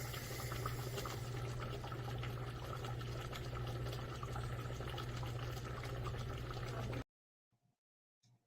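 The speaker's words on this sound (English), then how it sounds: "that's the chuck roast and the onions and the pepper, and it's a cooking" Chuck roast with onions and pepper cooking in a Le Creuset pot, giving a steady bubbling, sizzling wash with a low hum for about seven seconds before it cuts to near silence with a couple of faint clicks.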